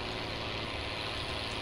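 Loaded Scania truck carrying barley in Farming Simulator, engine labouring under load with a continuous low, heavy drone at steady volume.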